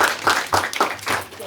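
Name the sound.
audience applause for panel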